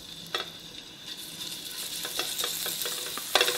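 Ginger garlic paste sizzling in hot desi ghee crackles with a soft steady hiss, broken by a few sharper spatters and stirring scrapes, close but fairly quiet with no talking.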